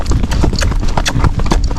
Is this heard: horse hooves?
yes